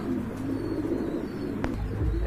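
A pair of exhibition pigeons coo close by in low, throaty rolling calls that carry steadily through the whole moment.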